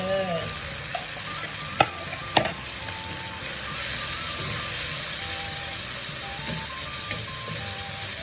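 Bamboo shoots stir-fried in a hot pan, steady sizzling and stirring with a continuous frying hiss and a few sharp clatters of a utensil early on, no talking.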